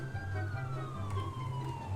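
Police car siren in a video game, a steady rising-and-falling wail playing loud and continuous under a low rumbling engine drone.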